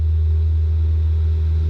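A light aircraft engine during its takeoff roll down a runway gives a steady, loud, low rumble with a constant droning tone, unbroken for the whole stretch, with no voices.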